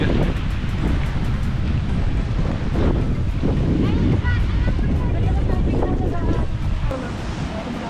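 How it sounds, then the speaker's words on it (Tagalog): Strong cold wind roars at a waterfall in Alberta, buffeting the microphone in loud, continuous rumbling gusts with rushing water beneath and brief voice fragments. "Ang lamig, ang lakas ng hangin guys."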